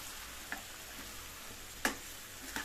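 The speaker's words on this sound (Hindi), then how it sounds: "तो हल्के से सॉफ्ट होने तक इसी में भूनते जाएंगे।" Finely sliced tomatoes fry gently in a pan for butter chicken, a soft, steady sizzle with a few sharp clicks from the utensil and no talking.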